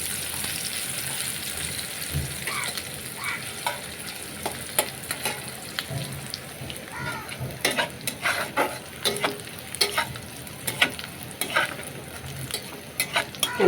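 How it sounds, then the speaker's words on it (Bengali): Onions fry lightly in a pan for a taki fish bhuna, a soft continuous sizzle with sharp spatula scrapes and taps growing more frequent in the second half, no voices. "আর আমি আজকে পেঁয়াজগুলোকে খুব বেশি ভাজবো না, শুধু পেঁয়াজের যে কাঁচা গন্ধটা, জাস্ট গন্ধটা একটু যাওয়ার মতো এরকম করে ভেজে নিব"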